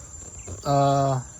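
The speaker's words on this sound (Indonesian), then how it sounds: "Seperti ini lebah" A large bee buzzes among the flowers of a young longan tree, a close, steady drone lasting about half a second over faint outdoor background.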